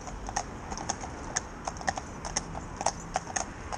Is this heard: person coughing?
no